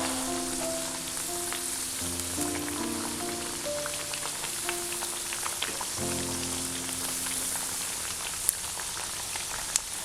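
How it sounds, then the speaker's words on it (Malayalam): Parippu vada, chana dal fritters, deep-frying in oil over medium flame, a dense, steady crackling sizzle with fine bubbling throughout, close and continuous, with faint tonal background music and no talking. "അപ്പം ഇത് മീഡിയം ഹീറ്റിൽ കിടന്നിട്ടാണ്, മീഡിയം ഫ്ലെയിമിൽ കിടന്നിട്ടാണ് ഇതിപ്പോൾ വേകുന്നത്"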